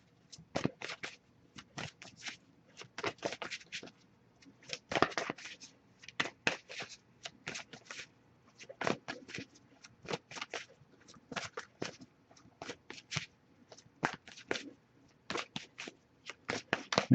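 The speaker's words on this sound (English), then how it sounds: "I'll shuffle a little bit longer." Tarot cards are shuffled by hand in quick, crisp bursts of riffling and snapping, repeated in an irregular rhythm with short pauses between, close and fairly quiet.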